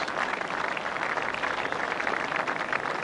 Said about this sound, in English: And applause for the heroine of the Sussex Stakes.